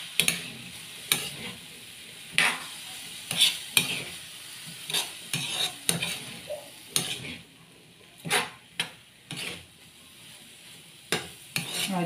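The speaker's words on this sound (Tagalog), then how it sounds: "Then, haluin." Mixed vegetables stirred in a sizzling frying pan for a home-cooked meal, with a dozen or so sharp utensil scrapes coming at uneven intervals over a steady soft sizzle, close and fairly quiet, with no talking.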